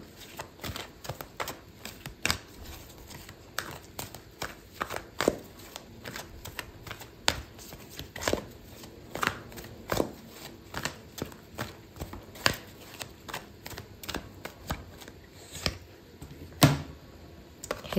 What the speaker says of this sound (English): I'm gonna pull out a card for your advice.